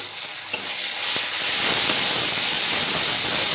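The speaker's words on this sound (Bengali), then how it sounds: "জিরে ধনে বাটা আর আদা এই তেলের মধ্যে আমি ভালো করে আগে কষিয়ে নিচ্ছি" Cumin, coriander and ginger paste frying in oil in a pan for a Bengali mung dal, a loud close hiss and sizzle that swells after a light clink and then holds steady.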